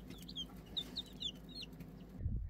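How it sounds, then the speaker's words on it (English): About ten barnyard mixed chicks peep in rapid, high, chirping bursts over a low steady hum, close by, ending in a brief louder thump. "I also got 10 barnyard mixed chicks from a local farmer."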